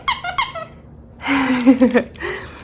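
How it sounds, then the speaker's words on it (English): Soft squeaky crinkle plush dog toy for a small dog, squeezed in two quick close squeaks, then a longer burst of crinkling and squeaking with a final shorter squeak, loud and near with no talk. "It's got some squeak and some crinkles."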